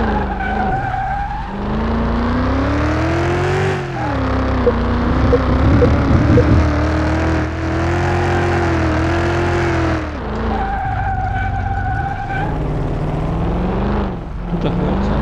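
A car in Car Mechanic Simulator 2021 accelerates hard on a test drive, its engine note climbing through several gears with brief dips at each shift, loud and close, with tyre squeal and no talking.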